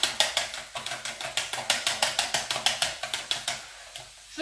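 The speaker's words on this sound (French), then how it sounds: "Allez, 2 œufs. On va fouetter. Alors le petit pichet pour ça c'est génial. Je fouette l'ensemble." Two eggs whisked briskly in a small jug, a fast regular series of sharp clicking strokes of the whisk against the sides, close and clear, about five beats per second before slowing and stopping.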